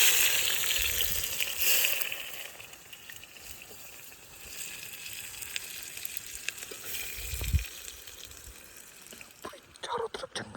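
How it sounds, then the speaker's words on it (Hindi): Chicken tempering, a tadka, sizzles and crackles in a pan at a night forest campsite, a soft, continuous frying hiss with occasional clinks and stirring noises, fairly faint. "हम यहाँ पर तड़का लगाना है चिकन का अपने"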